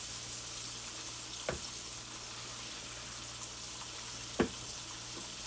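Beef kidney pieces frying in a pan, a steady soft sizzle with faint crackle, plus a couple of brief clanks and a sharper knock partway through.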